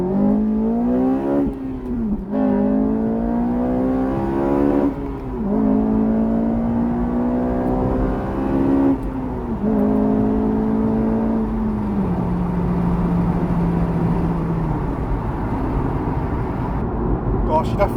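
A Honda Civic Type R FN2 with new exhaust manifolds and a remap accelerates hard through several gears, its engine note climbing in pitch in repeated loud revving pulls, each cut short by a brief drop at the gearchange, before it settles into a steadier cruise.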